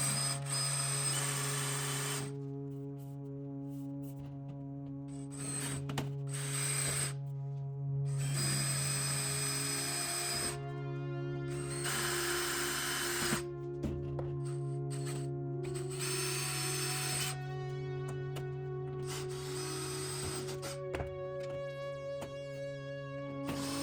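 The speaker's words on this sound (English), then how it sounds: "I'll go ahead and transfer drill all of these now that I have it centered in place" A power drill whines at high pitch in repeated bursts, match drilling metal tabs on an aircraft cage, starting and stopping several times with short pauses between, close up and fairly loud.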